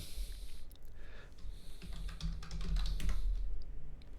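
Keystrokes on a computer keyboard entering a sudo command at a Linux terminal on elementary OS, a quick run of close, fairly soft clicks with no talk.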